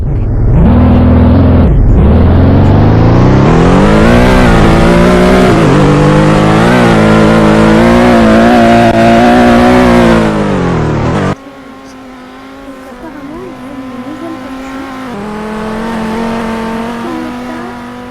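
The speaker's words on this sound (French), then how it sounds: "La Porsche 718." A Porsche 718 engine revs hard in a video game, a loud, close, harmonic roar rising and falling in pitch, then dropping to a quieter idle with a softer rev building near the end.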